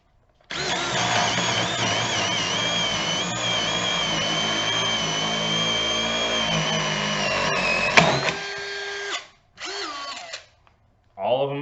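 A DeWalt cordless drywall screwgun whines steadily at high speed for several seconds, then spins down and gives a few short bursts as more screws are driven.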